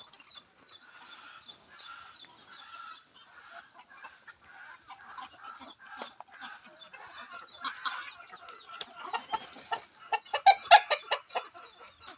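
Chickens on a poultry farm cluck and call in a long run of short, repeated notes, faint at first and then busier and louder toward the end, with no talk over them.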